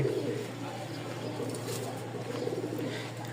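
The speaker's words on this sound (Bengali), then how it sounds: "আমি আগে নটটার ডাক দেখাবো আপনাদেরকে যে আসলে কবুতর কি সুন্দর ডাকে" Pigeons kept for sale in Mirpur cooing softly and continuously at close range, a low bubbling murmur over a steady hum.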